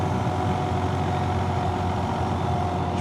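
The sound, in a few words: motorcycle engine surging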